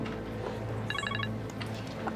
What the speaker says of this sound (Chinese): 接个电话。